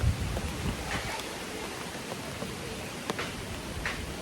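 Rain falling during a storm, a broad steady hiss of heavy rainfall with scattered drips and patters nearby, no speech.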